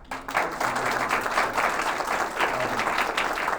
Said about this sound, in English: I think everybody deserves a round of applause